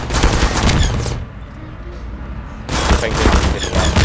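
Rapid bursts of automated turret gunfire in the Portal video game, loud and close, stopping for a moment and then resuming.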